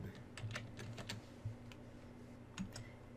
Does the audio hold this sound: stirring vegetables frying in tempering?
no